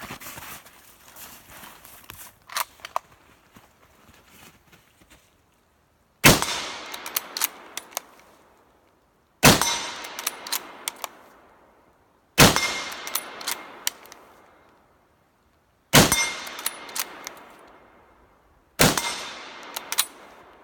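A Winchester M1917 rifle fires five loud, sharp shots a few seconds apart outdoors, each blast followed by a decaying echo, with faint clicks and handling noises of the bolt in between.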